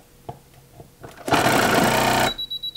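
A sewing machine that no longer sews properly whirs loudly for about a second as its foot pedal is pressed, then cuts off into a few short, evenly spaced pulses.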